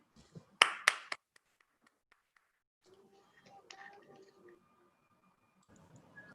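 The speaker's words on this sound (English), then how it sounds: "Can we have a clap for him?" A small audience at a Toastmasters meeting claps in a brief burst, a few sharp near claps fading quickly, followed by scattered soft sounds and a voice speaking quietly.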